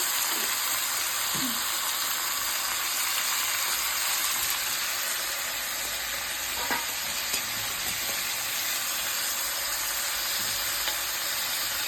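Chicken fries in hot oil for a desi chicken dish, making a constant, even sizzling hiss up close with occasional faint clinks, and no clear speech over it.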